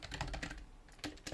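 Rapid, close clicks of typing on a computer keyboard, a quick burst of keystrokes, a brief pause, then a few more taps, with no talking.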